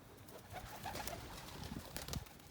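Young tumbler pigeons softly cooing and shuffling while getting feed, faint and somewhat distant over a noisy hiss, with a few brief scratchy sounds.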